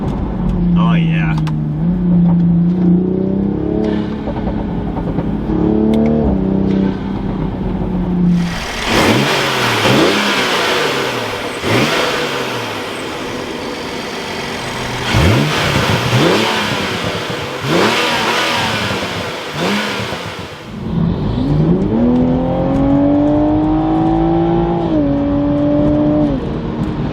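Toyota Supra A90 fitted with a cold air intake and aftermarket exhaust, in sport and manual mode, revving loudly from idle in several hard bursts, with engine roar sweeping up and down between rises, close by and without talk.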